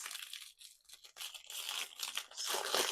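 Crinkly tearing and crumpling of packaging, close and fairly loud, in bursts with brief pauses, like wrapping being ripped open.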